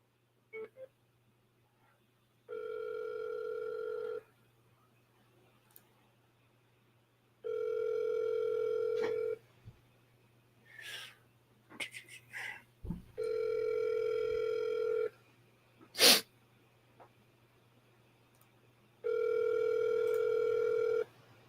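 Outgoing telephone call to a number in Houston: four long ringback tones in a steady, even cadence, broken by short clicks and dialing beeps between them, with no talking.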